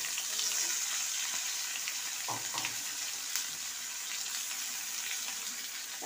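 Potato pieces and tomato fry in hot oil for a rohu fish curry, a steady close sizzling hiss with faint stirring crackles running throughout.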